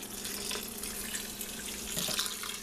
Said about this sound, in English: And now I'm going to add 1 can of chicken broth.